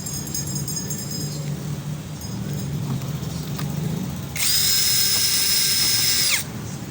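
Power screwdriver or drill whirring steadily for about two seconds while backing screws out of the rear cover of a Devant 28DL420 TV, which powers on but shows no picture, with a quieter low hum underneath.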